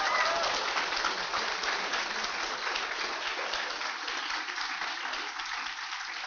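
Audience at a NASA hackathon in Huntsville applauds in a sustained, even wash of clapping that fades slightly over several seconds.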